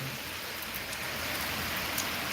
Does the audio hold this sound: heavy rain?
yes